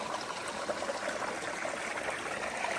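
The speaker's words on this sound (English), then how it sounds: "Some nice water flowing here." Water flows in a small stream along the Appalachian Trail, a soft, steady trickling and gurgling heard close and fairly quiet, with no talking.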